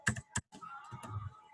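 Typing on a computer keyboard, a few sharp, close key clicks at the start followed by softer, quicker taps, with faint speech-like sound in the background.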